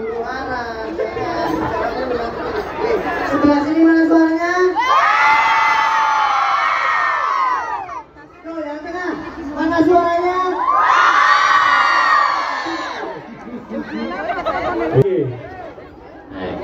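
Spectators at an outdoor jathilan horse-dance performance shout and cheer in two big swelling waves, with children's voices and lively chatter throughout.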